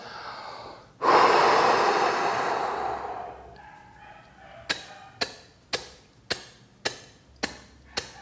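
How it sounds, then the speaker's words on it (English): A long, forceful exhale close to the microphone before freediving equalization, rushing out loudly and tapering off over a couple of seconds, followed by a series of short, sharp, evenly spaced breath pulses. "So I'm going to fully exhale first."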